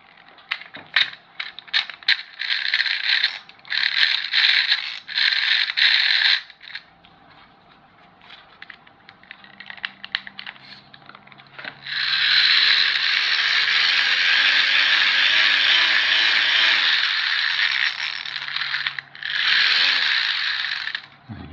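Rapid clicking ratchet of a child's hand-cranked fan being spun, heard up close in bursts of fast rattling clicks, then a longer continuous whirring ratchet buzz with a pause between.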